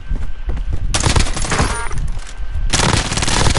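Rapid bursts of automatic gunfire in the Warzone video game, loud and dense, with a sustained volley followed by another heavy barrage after a brief lull.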